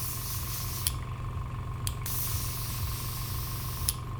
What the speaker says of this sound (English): we've still got a bit of paint in here, which will just spray out